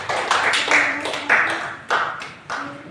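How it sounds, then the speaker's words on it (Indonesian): A classroom applauds a student group with several short bursts of clapping, each rising sharply and then fading away, while voices carry faintly underneath. "kita berikan tepuk tangan juga untuk kelompok"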